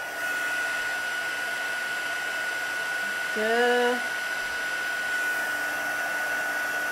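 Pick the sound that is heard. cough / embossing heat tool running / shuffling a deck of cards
embossing heat tool running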